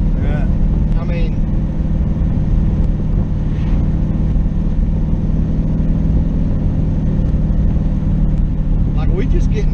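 A twin-turbo LS-swapped third-gen Camaro's engine drones low and loud from inside the car as it drives, a constant rumble beneath people talking.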